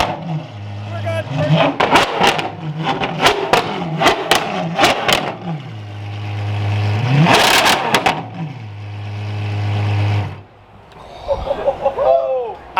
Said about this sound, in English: the best sounding V12 in the world from Apollo